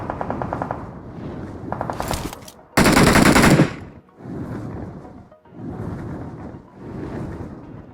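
Gunfire in the mobile battle royale game BGMI, with sustained rattling bursts of automatic fire and one loud, dense blast in the middle, followed by repeated rumbling sweeps.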